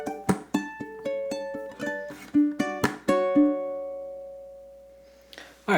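Ukulele playing measure 18 of a Motown song, a run of bright plucked notes and strummed chords in quick rhythm, the last chord ringing out and fading before a final strum, played solo and close.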